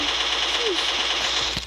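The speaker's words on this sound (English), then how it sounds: "Why is he shooting me?" Rapid gunfire in a shooter video game rattles on continuously and loudly with a steady dense texture, with no clear pauses across the whole stretch.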